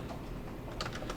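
Code is typed on a computer keyboard as a brief, quiet flurry of soft key clicks, growing slightly denser near the end.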